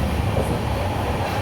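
The Amrit Bharat Express from Bengaluru to Alipurduar gives off a steady, loud rumble of running rail carriages, a continuous dense roar with no voices.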